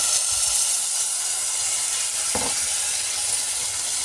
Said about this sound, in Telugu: బాగా పచ్చిపోయినంత వరకు వేపుతాము.